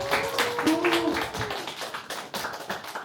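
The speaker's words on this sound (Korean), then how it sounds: "큰 박수로 맞이하겠습니다" Applause greets the judges at the results ceremony of an XR hackathon, a dense, steady patter of many hands clapping close by for a few seconds with no talk over it.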